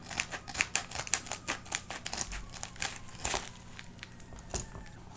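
A coin package is cut open along its edge with a steady run of small, close crinkling and snipping crackles. The sounds are quiet and fairly even over several seconds, and no one speaks.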